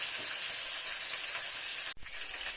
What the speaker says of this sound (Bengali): এই মাছটা আমি ভালো করে ভেজে নেব।